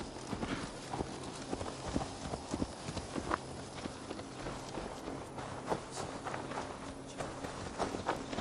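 Horse hooves clip-clop at a steady walking pace in the Viking-era game Assassin's Creed Valhalla, close and moderately quiet, with even rhythmic footfalls throughout.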